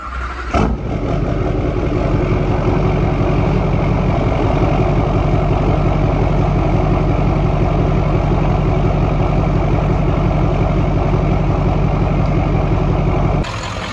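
A Duramax diesel pickup engine, fitted with its old exhaust, cranks briefly and catches, then settles into a loud, steady, rumbling idle that runs on without pause.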